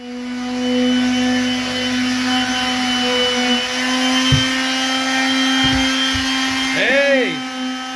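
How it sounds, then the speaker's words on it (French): A power sander whirs steadily inside a school bus, a constant motor hum with a few bumps and knocks, and a rising-and-falling squeal near the end; a voice speaks over it. "Et Audrey, elle retourne poncer."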